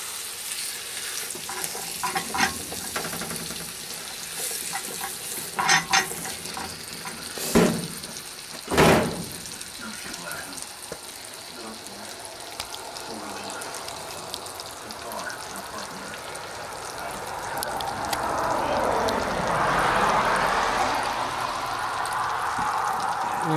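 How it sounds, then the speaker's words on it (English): Chicken thighs browning skin side down in a Dutch oven heated by 24 coals underneath: a few clanks and knocks at first, then a steady sizzle that grows fuller and louder toward the end. "brown the skin side of our thighs."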